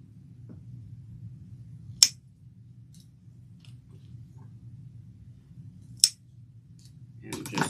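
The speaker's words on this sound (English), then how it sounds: "So I'm going to punch a hole." Hole puncher punching through fabric for a shoulder bag, giving two sharp, crisp clicks a few seconds apart over quiet room hum, followed by a brief rustle.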